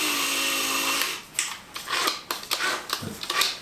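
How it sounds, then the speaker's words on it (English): A well-worn Ryobi power drill runs in a steady whine for about a second, then gives several short bursts of drilling and grinding into 3/4 inch plywood, close and loud. "This drill has seen a lot of use."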